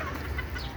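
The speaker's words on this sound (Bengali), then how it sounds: "এই যে দেখেন, এই মোরগটার বয়স 5 বছর চলতেছে এখন।" A five-year-old rooster, tied up on a farm alongside hens, gives a short burst of clucking close by, brief and alone.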